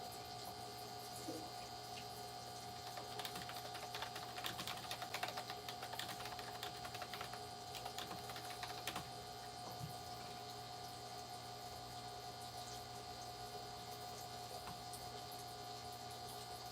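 Soft, rapid keyboard clicking in irregular bursts over a constant electronic hum, busiest in the first half and quieter later.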